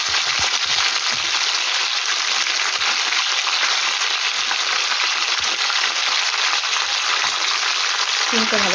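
Broad beans fry in hot oil seasoned with black cumin, giving a steady, even sizzling hiss with occasional soft clicks of stirring.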